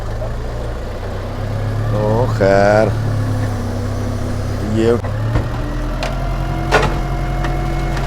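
A truck engine idles in a steady low rumble while a scrapped car is lifted, with someone talking over the drone and brief higher mechanical whines rising and falling midway.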